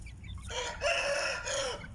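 A rooster crows once, a loud drawn-out call with a rising then sustained tone, fairly close, with no talking over it.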